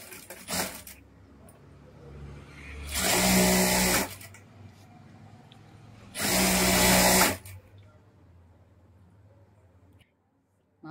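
A sewing machine stitches a cotton blouse lining in short bursts, two long runs of about a second each. Quieter handling sounds and pauses fall between the runs.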